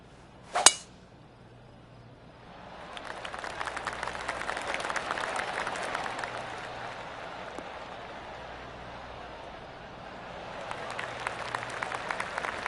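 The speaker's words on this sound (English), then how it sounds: "I can hear the golf claps around the course." Scattered golf claps from spectators around the course in PGA 2K25 swell for several seconds, fade, then rise again near the end, following a single sharp knock at the start.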